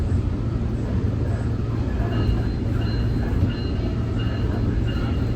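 Nippon Sharyo diesel multiple unit train running northbound on the SMART line toward Sonoma County Airport, heard from on board as a steady, loud low rumble of engine and wheels with no horn.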